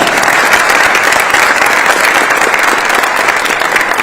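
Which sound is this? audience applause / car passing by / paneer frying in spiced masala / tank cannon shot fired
audience applause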